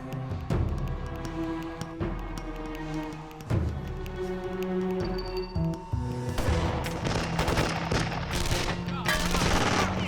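Bursts of gunfire aimed at a car tire crack out in a loud, dense volley over a music score, with several sharp shots early and a heavier rapid barrage near the end.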